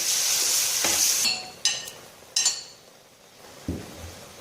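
Chicken tikka biryani masala fries in a pan, with a loud hiss at first that fades, followed by a few sharp utensil clinks and scrapes close by.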